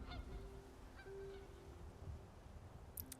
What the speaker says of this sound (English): we have peacocks.